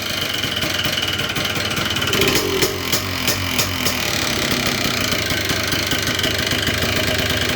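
A cold Yamaha Blaster two-stroke engine idles loud and close, with a rough, uneven, loping putter that holds steady and has a few sharper ticks partway through.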